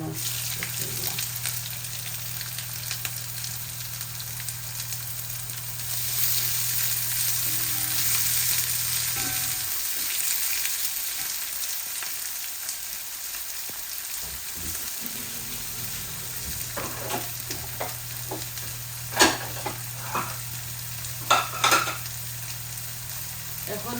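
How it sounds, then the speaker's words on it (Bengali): Onion dropped into hot oil with browned garlic, a steady loud sizzle throughout that briefly dips and returns, with a few clicks and clatters toward the end, no voices. "এই দেখো আমার রসুনগুলা লাল লাল হয়ে গেছে আমি এখন পেঁয়াজটা দিলাম"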